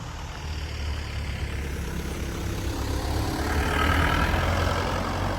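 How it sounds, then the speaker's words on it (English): A diesel truck engine idles with a steady low rumble and rattle at close range, rising slightly in loudness toward the end, with no talking. "Diesel. You hear the rattle of the motor."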